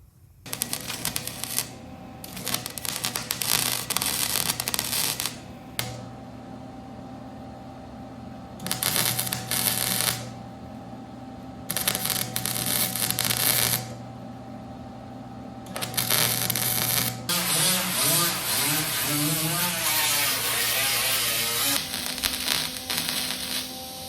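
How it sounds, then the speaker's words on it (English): A steel body panel being welded into a 1958 Chevy, heard as close, harsh crackling bursts of a few seconds each with short pauses between them, the final burst running longest. "We'll weld that in there and go to the next piece."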